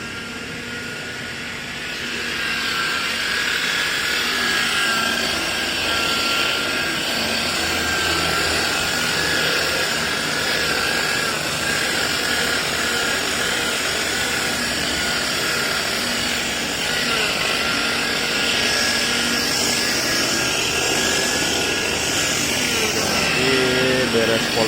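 A polishing machine buffing a car bumper during a cutting polish step, a steady loud whirring drone with a high tonal whine that holds throughout, close up with no pauses.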